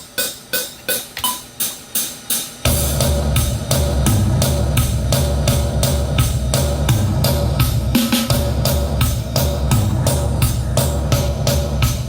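A drum kit opens with a few evenly spaced hits, then breaks into a full steady groove with a military-sounding snare, loud and close throughout.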